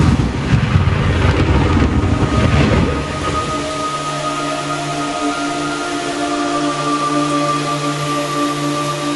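Steady, dense rain pours in a Metal Gear Solid 3 game scene, with a louder, rumbling burst like thunder over the first few seconds before it settles into an even, continuous downpour with no voices.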